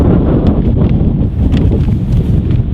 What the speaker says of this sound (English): it's an incredibly windy day today